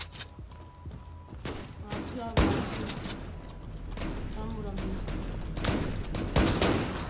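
Gunfire in the online shooter game Zula, bursts of rapid shots and heavy thuds rolling almost continuously at close range, with a voice talking briefly over the action.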